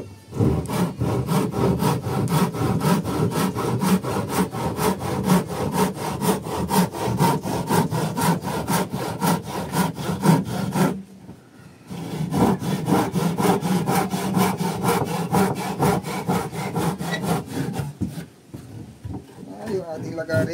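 Hand saw cutting wood in steady, rapid back-and-forth strokes, loud and close, with two short pauses between bursts of sawing; a voice talks faintly in the background.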